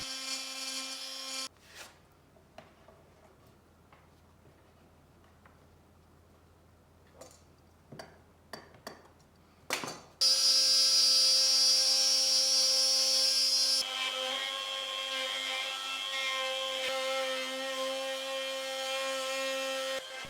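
A power tool cuts a charger groove into a wooden tabletop: scattered knocks and taps come first, then a loud, steady, whining cut that continues close up for the last ten seconds.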